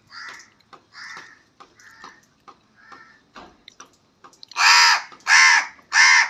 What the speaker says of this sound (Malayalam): നമ്മളെ കാക്കു വന്നിട്ടുണ്ട്.